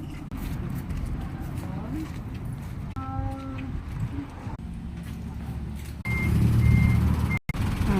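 A Japan surplus truck on a road test for a client, its engine rumbling under people talking, with a run of reversing beeps partway through and the engine swelling louder near the end.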